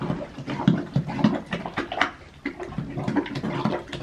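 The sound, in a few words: pet mouthing around in its water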